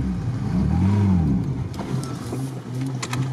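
A Niva without low-range gearing revs its engine hard while straining to pull a stuck vehicle, a steady, loud, rising and falling engine drone that fills the whole stretch.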